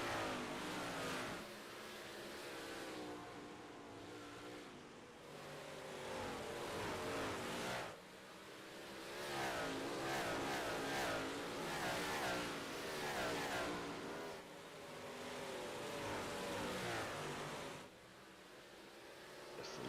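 Modified race cars in the iRacing video game drone around the track in a constant loud roar of several engines. Revs rise and fall in waves as the cars lap, with no talking over them.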